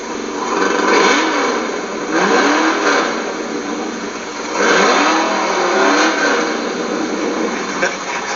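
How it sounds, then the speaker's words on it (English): A drag-racing cop car with no mufflers has its engine revved hard. The loud, raw roar swells and falls in several revving surges over a constant rumble, with no talk heard. "we're not running any mufflers because mufflers slow things down"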